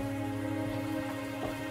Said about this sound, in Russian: О, на улице дождик. Моросит.